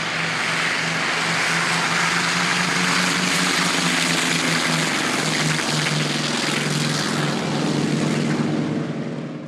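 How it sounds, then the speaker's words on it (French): A perfectly restored Curtiss WWII propeller fighter flies past at an air show, its piston engine a loud, steady drone with a sustained throaty hum that holds for the whole stretch. "les avions de la guerre de 40 entrent en scène comme ce Curtiss parfaitement rénové"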